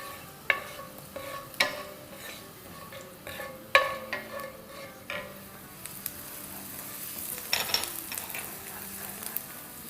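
Onions frying in oil in a pan on a high flame for a dhaba-style aloo masala, a steady sizzle broken by a few sharp clatters of stirring, close and alone with no voices.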